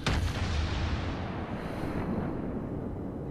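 Naval gunfire in the video game World of Warships: a deep, booming blast opens the clip and then rolls off into a long, rumbling decay with wind-like noise underneath.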